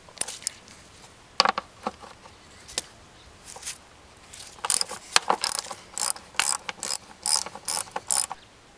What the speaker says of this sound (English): I've removed all of the bolts for this upper timing belt cover.